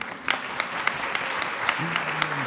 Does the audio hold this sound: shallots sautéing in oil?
no